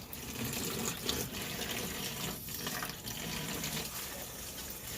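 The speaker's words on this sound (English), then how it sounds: "we're just going to rinse this, and we just want to rinse it until the water turns like basically clear" Tap water runs steadily into a sink while dyed yarn is rinsed under it, a continuous close gushing splash with slight variations in flow and no talking.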